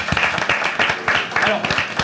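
Studio audience applause for a singer after her song on a French TV show, a steady burst of clapping with a voice or two mixed in, fairly close and moderately loud.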